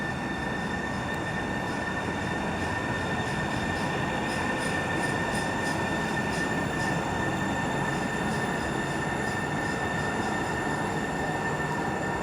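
A light rail train emerging from a tunnel on Seattle's East Link line rumbles steadily with a high metallic wheel squeal, growing slightly louder as it approaches, with faint rhythmic clicks of the rails.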